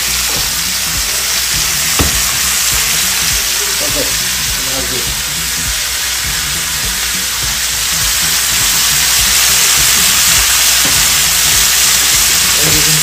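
Chicken and peppers sizzle barbecue-style on an indoor gas stove, a loud constant hiss with occasional scrapes and clinks, while a person talks over the cooking.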